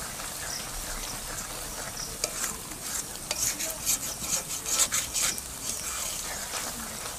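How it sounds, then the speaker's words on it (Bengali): A spoon stirs cow's milk cream in a pan as ghee separates, scraping and rasping against the metal in short, repeated strokes over a soft, steady sizzle. "তো এবার ভালোভাবে নাড়তে হবে।"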